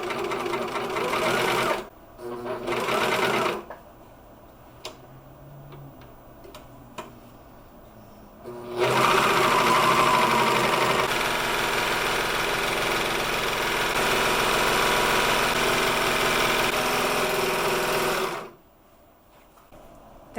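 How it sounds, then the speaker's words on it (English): A serger runs a rolled hem along the edge of a fabric napkin in loud, steady whirring bursts: two short runs, quiet handling noises, then one long continuous run that stops abruptly. "That will cut this fabric and put the 4th side of rolled hem,"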